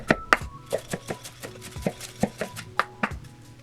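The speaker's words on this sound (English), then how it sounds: "Cut an onion." A kitchen knife dices an onion on a cutting board, a steady series of sharp, close chops in a quick, slightly uneven rhythm, loud and alone.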